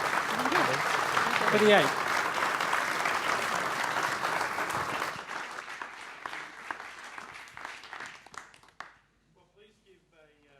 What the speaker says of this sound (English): Big round of applause to our wonderful panellists